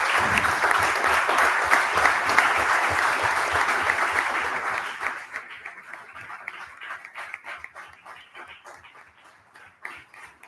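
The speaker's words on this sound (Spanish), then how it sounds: "Un aplauso por favor." Dense applause from a conference audience at an international administrative law event, loud and sustained for about five seconds, then thinning into scattered individual claps that fade out.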